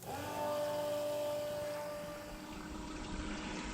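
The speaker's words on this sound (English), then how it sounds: "Now we'll clean out the macerator pump with some fresh water." An RV macerator pump runs steadily while fresh water flushes through it, a continuous motor whine over a rushing liquid rumble that dips slightly partway through.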